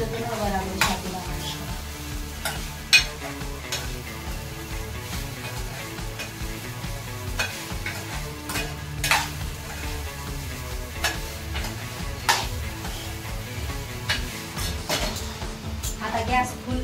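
Sabudana (tapioca pearls) stirred and fried in a pan: a steady, close sizzle carries throughout, punctuated by frequent sharp spoon scrapes and clicks against the pan, with faint voice in the background.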